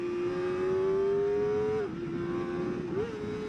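A 2024 Kawasaki ZX-4RR motorcycle engine screams at high steady revs, dipping briefly as it leans through a bend, then climbing again; loud, close and continuous with no voices.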